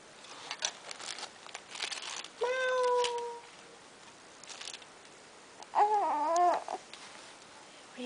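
A young child imitates a cat's meow with two drawn-out, wavering vocal meows separated by pauses, heard up close amid quiet household sounds and faint adult talk.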